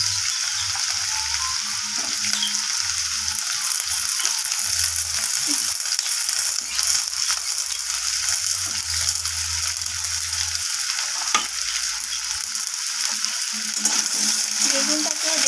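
Eggplant, potato and papaya frying in hot oil in a pan, with a loud, continuous close sizzle and intermittent scraping as the pieces are stirred.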